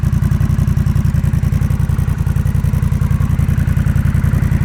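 A 2021 Honda Rebel 1100 fitted with a Coffman's Shorty exhaust idles steadily up close, its loud, low, even pulsing rumble running unbroken with no voices over it.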